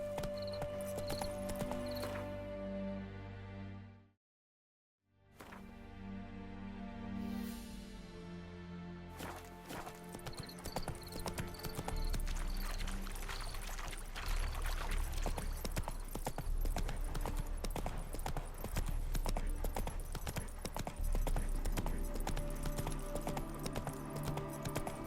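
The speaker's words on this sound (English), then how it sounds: "Spooking my horse." Horse hooves clip-clopping in The Witcher 3 video game, a steady rhythmic trot heard fairly close, with a brief dropout early on, then continuing under music and ambient game sounds.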